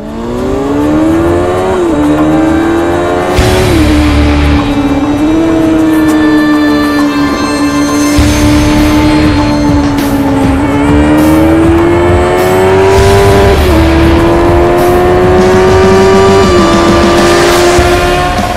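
A Kawasaki Z800 motorcycle engine revs and accelerates loudly, pitch climbing through gears with brief dips at each shift, sustained and close throughout.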